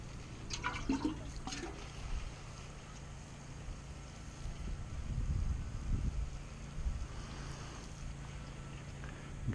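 Fish emulsion being poured from a watering container onto young Brussels sprout plants set out in a garden, a soft sloshing, gurgling water sound that swells midway, with faint knocks early on and no talking.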